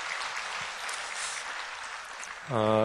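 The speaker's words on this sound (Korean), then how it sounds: "이쪽에 박수하겠습니다." Steady applause from a Sunday church congregation, moderate and even, cut off near the end by a voice speaking loudly over it.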